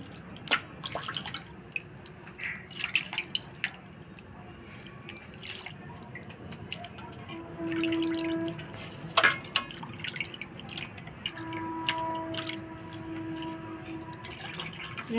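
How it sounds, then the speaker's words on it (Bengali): Goat meat being rinsed with water in a home kitchen: faint drips, splashes and trickling water come and go close by, with occasional clinks and a brief tonal squeak among the splashing. "আমি পরিষ্কার করে 2টা ধোয়া দিয়ে নেব।"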